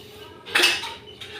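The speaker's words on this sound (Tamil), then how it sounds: "பாத்திரம்லாம் கழுவி முடிச்சிட்டேன்" Dishes, pots and cutlery being washed in a home kitchen, with a sharp clatter of metal utensils and pans that swells midway, then fades into soft scraping and a last small clink.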